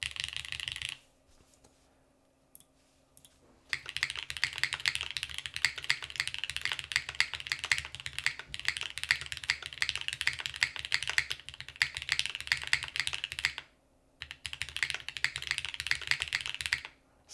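Mechanical computer keyboard, a Lily build with snow rabbit keycaps, typed on in steady rapid bursts of close clicky keystrokes with a couple of short pauses.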